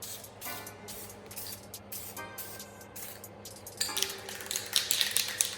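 A paint spray gun gives short test bursts of gloss clear coat on an engine intake, quick repeated hissing blasts in an irregular rhythm that grow louder near the end.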